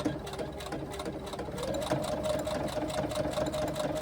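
A domestic sewing machine runs steadily as it stitches along the edge of fabric for a small pouch, a continuous close mechanical whir with a faint rhythmic patter throughout.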